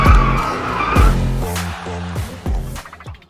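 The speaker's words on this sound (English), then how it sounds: "it's a 4-cylinder turbo petrol, but it drives faster than a V8" A 4-cylinder turbo petrol supercar on a track, tyres squealing and skidding as the engine revs rise and fall through several loud, close passes in quick succession.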